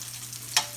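Hot link sausages fry in a pan and give a steady close sizzle with one brief louder crackle partway through.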